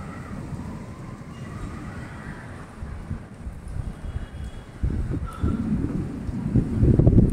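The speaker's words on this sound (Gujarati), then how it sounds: "અત્યારે જોરદાર પવનના સુઝવાટા સાથે જોરદાર વરસાદ પડી રહ્યો છે." Heavy rain falls amid strong gusting wind, a dense roaring rush with buffeting wind on the microphone that swells louder toward the end.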